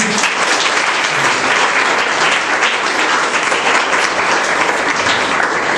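A church congregation at a baby's dedication service breaks into loud, sustained applause, a dense, even roar of many hands clapping without pause.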